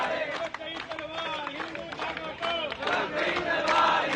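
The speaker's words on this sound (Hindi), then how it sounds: "भाई मनोज तोमर के समर्थन में दिल्ली पुलिस हेडक्वार्टर पर सभी सनातनियों की भीड़ आप देख सकते हैं" A crowd of Hindu supporters gathered outside Delhi Police headquarters chants and shouts together in rhythmic bursts, with clapping and overlapping voices, fairly distant and moderately loud.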